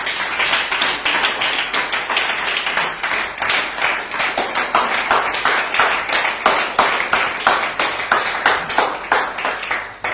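A church congregation claps steadily and loudly in a fast, even rhythm to acclaim the Lord, many hands together, close and sustained without speech.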